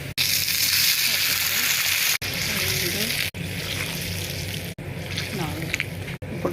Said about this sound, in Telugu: 4 కప్పులు నీళ్ళు వేసుకుందాం.